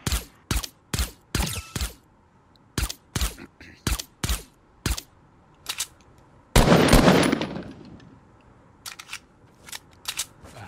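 Gunfire in Fortnite rings out as sharp single shots in quick rhythmic bursts, broken by one louder, noisier blast and then sparser scattered shots.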